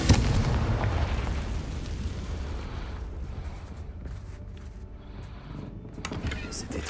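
A Confringo fire-spell explosion in the video game Hogwarts Legacy lands as a loud, close boom at the start, then trails off into a lingering rumble with a few fainter pops near the end.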